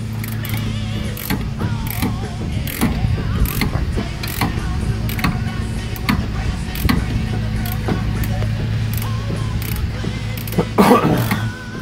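A ratchet working a bolt loose during a power brake swap on a car, with repeated clicking bursts over a steady low mechanical hum, fairly close and continuous, with a voice occasionally talking.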